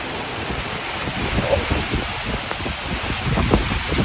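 Steady night rain with strong gusty wind rushing over it, heard from a rooftop, a broad continuous roar that swells slightly at times, heard up close without any talking.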